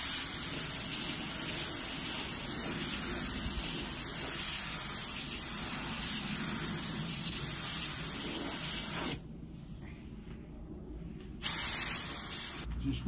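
Paint sprays from a can onto car bumpers in a long, loud, continuous hiss. It cuts off briefly and then resumes at close range.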